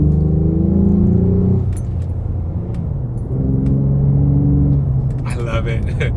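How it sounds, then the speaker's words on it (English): A car's engine drones steadily in sport mode, then shifts down to second gear, its rumbling pitch changing after the downshift, close up with a person talking over it and a light jingle near the end. "Put it in sport. We're going to shift it down to second gear."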